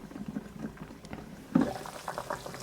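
Potatoes boil in a pot, a faint bubbling and gurgling liquid sound with soft irregular pops, quiet and close, with a slightly louder burst of bubbles midway.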